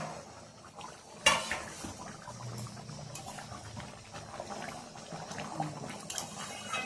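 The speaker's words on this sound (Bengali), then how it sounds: "ঢাকনাটা একটু খুলে দেখে নি।" A metal lid lifts off a pot of Bengali-style egg malai curry with a sharp clatter, followed by soft clinks of cookware and a quiet bubbling simmer underneath.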